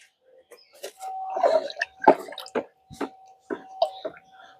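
A hand stirs jaggery into water to dissolve it, making soft, irregular wet squishes and drips in short bursts with brief pauses between them, close up and fairly quiet.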